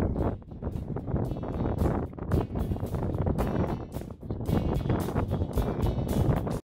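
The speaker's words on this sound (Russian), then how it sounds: "смотрите, какое ветрище" Strong wind gusts across a snowy mountain slope, a loud, continuous roar that surges and dips throughout with no one speaking.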